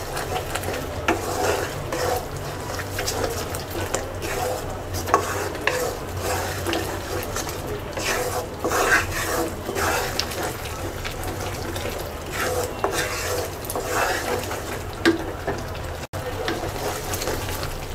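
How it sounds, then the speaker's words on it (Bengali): Bengali spice paste with turmeric is stirred and fried in a pan for a sweet-sour mixed fruit pickle, giving a steady close sizzle with continuous scraping and stirring and no talk. "এবার মশলাটাকে কিছুক্ষণ কষিয়ে নেব"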